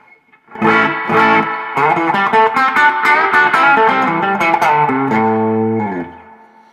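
A Gibson ES-335 electric guitar plays a quick distorted run of notes on the neck pickup, then holds a sustained chord on the bridge pickup that rings out and fades.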